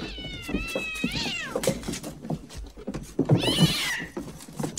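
A cat meows close by, a drawn-out wavering cry followed by a second yowling meow, with scattered rustling and thumps between them and no talking.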